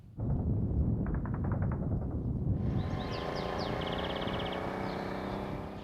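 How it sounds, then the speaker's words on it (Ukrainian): Distant rumbling with scattered sharp cracks of gunfire and heavy booms from a war front line, continuous and muffled, over a steady gusty windy background with no speech. "Гул стрільби та вибухів не здатен забити навіть поривчастий вітер."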